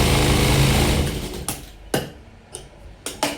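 A sewing machine runs in a steady whirring stitch while joining blouse pieces, then stops, followed by a few sharp clicks and taps of the mechanism.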